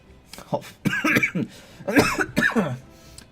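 Several short, close coughs and throat-clearing bursts from a man on a game stream, coming in quick uneven clusters with brief pauses between them.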